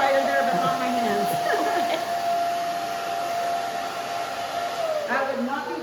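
A handheld blow dryer runs continuously while a round-brushed bob haircut is styled, giving a steady whining hum throughout with faint voice-like sounds underneath.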